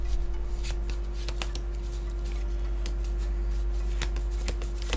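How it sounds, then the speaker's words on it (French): A Lorcana card is drawn from the deck during a tabletop match: scattered short card slaps and rustles over a steady low electrical hum, with no talking. "Allez, je draw une carte."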